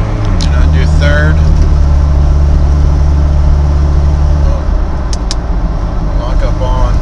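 Toyota truck engine running with a steady low drone as the transmission is shifted into third gear; the drone drops off partway through, and someone talks over it.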